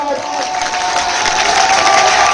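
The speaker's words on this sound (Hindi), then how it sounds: "एक बार जोरदार तालियों के साथ" Loud, dense applause from a large crowd at a Bhagavat religious discourse at a Hanuman temple, continuous clapping with some cheering mixed in.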